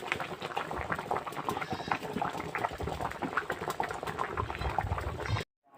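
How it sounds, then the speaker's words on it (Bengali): Pangas fish curry simmering uncovered over high heat, a dense, continuous bubbling and popping close up that runs steadily before cutting off abruptly near the end. "এবার আমি চুলার আঁচটা বাড়িয়ে ঢাকনা ছাড়াই মাছগুলো সুন্দরভাবে রান্না করে নিব।"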